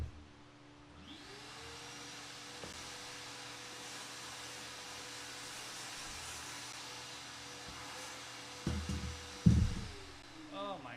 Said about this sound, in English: Let me get a vacuum.